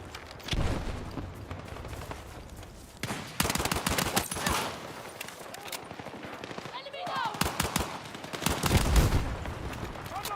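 Machine gun fire in the Battlefield 6 beta video game, loud rapid bursts repeating across a chaotic firefight, heavy shots and impacts layered together, with someone talking over the gunfire.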